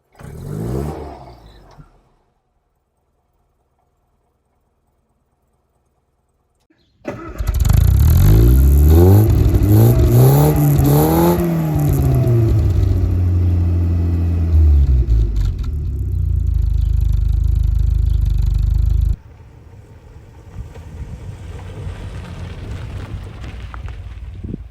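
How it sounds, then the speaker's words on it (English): Mr Bean's Mini with its 998 A-series engine cranks, fires and revs loudly with a rasping, rising and falling note, then settles to a steady idle, all close up. "let's get this amazing little car started up so you can hear what it sounds like"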